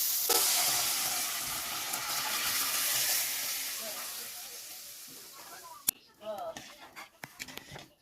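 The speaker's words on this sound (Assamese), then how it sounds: "এতিয়া আমি দালিখিনি ঢালি দিছোঁ" Boiled lentils hit fried spices in a pan, setting off a loud hissing sizzle that slowly fades, followed by a few clanks and scraping stirs near the end.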